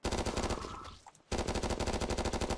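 The ZX9, a high-precision weapon in Garry's Mod, fires loud rapid bursts of evenly spaced shots, a brief pause breaking the rhythm before the steady automatic fire resumes.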